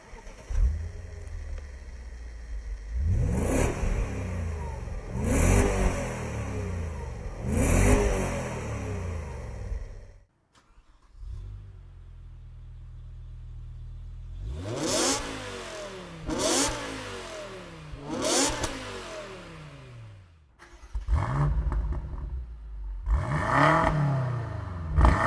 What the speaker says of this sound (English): revving the nuts off the new M5